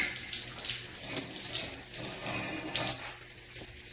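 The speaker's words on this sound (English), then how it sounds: "I got a mess. Still got coolant in it." Coolant drains out of a 350 small-block Chevy engine during a teardown, a close, steady trickle and splash of liquid like a running tap, with no voices.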